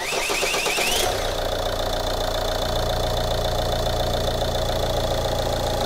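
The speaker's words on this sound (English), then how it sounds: "So can you crank over, Gus, please?" A 2009 Ford Mondeo TDCi diesel engine with an intermittent breakdown fault, heard cranking briefly before settling into a steady, loud, close running drone with a constant mechanical hum.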